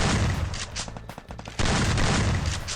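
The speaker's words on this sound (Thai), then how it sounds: "เดี๋ยวเราลองยิงแล้วรีโเลยกันดีกว่า" Rapid gunfire from a Free Fire weapon with a One Punch Man skin, loud and close, firing in dense bursts with a short stuttering pause midway before the shots resume.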